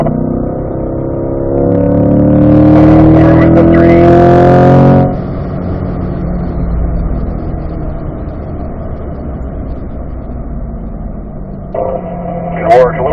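A Corvette on a race track at a performance driving school accelerates hard, its engine note climbing loud and close with rising pitch before easing off into a steadier drone, with an instructor's voice briefly near the end.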